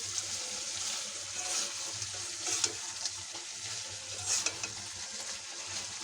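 Potato, eggplant and tomato fry in a black wok with a steady close-up sizzle, broken by soft stirring scrapes and a few brief louder crackles.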